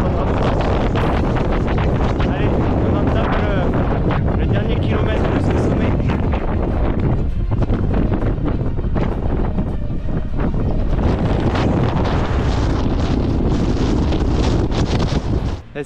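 Strong wind sweeps across the exposed Mont Lozère ridge, a loud, continuous roaring buffet that never lets up, with someone talking close by under the gusts.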